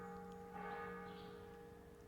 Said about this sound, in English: The church bells just kind of ring through the whole space.